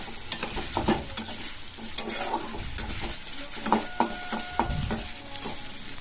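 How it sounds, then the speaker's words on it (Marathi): Chopped onion fries with cumin in a pan for stuffed eggplant, giving a close, continuous sizzle broken by several distinct stirring scrapes and knocks of a spoon against the pan. "तर अशा प्रकारे कांदा फ्राय झाला आहे।"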